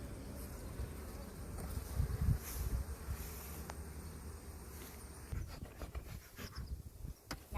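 Honeybees buzz around uncapped honey at a hive during a harvest, a steady droning swarm hum with scattered nearby passes and faint rustling handling noises.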